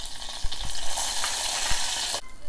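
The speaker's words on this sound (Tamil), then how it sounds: "சீரகம் நல்லா பொரிஞ்சு வரணும், அப்போ தான் வந்து கத்திரிக்காய் கடைசல் ரொம்ப டேஸ்ட்டாக இருக்கும்" Cumin seeds and dried red chillies sizzle and crackle in hot oil for a Tamil brinjal dish, a bright, close frying hiss with a few pops and stirring clunks before it suddenly stops.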